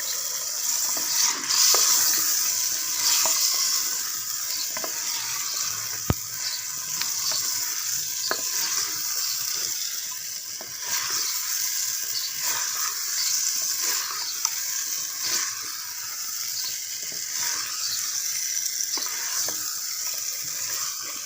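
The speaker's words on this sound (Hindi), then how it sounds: "हंडिया को अच्छी तरह भूनें ताकि उसका जायका ज़्यादा बढ़ता है।" Eggplant and potatoes fry in a cooking pot, sizzling steadily with intermittent stirring scrapes and clinks throughout, close and without talk.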